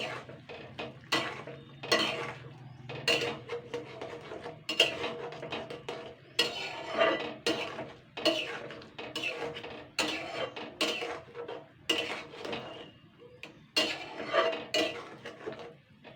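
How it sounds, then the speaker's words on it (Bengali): Spices with sugar, chili powder and kasuri methi being stirred in a pan for chana dal jolbora, with repeated scraping and clinking strokes of a utensil against the metal, steady and close, with no talk. "এবার আমি এগুলোকে নাড়াচাড়া করে নেব।"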